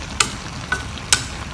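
Luffa stir-fried with bean sprouts and chives in a pan, giving three short, sharp scraping stirs at a steady pace over a low, soft sizzle, close and fairly quiet.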